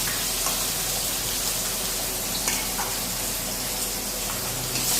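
Fish pieces sizzle steadily in hot oil in a home kitchen pan, a continuous loud frying hiss with occasional small pops, no pauses.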